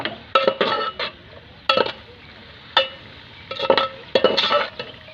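A spoon scrapes and clinks against a pan while cooked chicken and vegetables for Chinese rice are mixed, giving a series of sharp metallic knocks in irregular bursts, close and fairly loud, with no talking.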